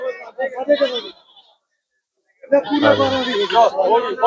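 A Beetal goat bleats loudly several times in a quick wavering run after a short stretch of nearby talk, with a brief silent gap between.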